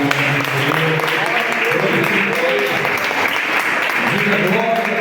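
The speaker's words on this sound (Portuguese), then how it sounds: "E toda a igreja aplaude o nome do Senhor." A church congregation applauds steadily through a worship service, a dense, even wash of clapping, with voices and some singing or talk mixed in underneath.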